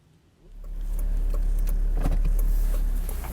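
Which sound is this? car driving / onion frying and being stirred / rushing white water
car driving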